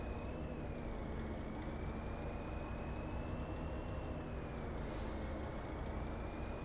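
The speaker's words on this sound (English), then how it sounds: "just because I like to hear this truck and the jig brake, we'll drive it back just so I get to hear it" Heavy truck in Farming Simulator 25 driving with its engine brake engaged, a loud steady low drone with a rising whine and a brief hiss of air near the end, no voices.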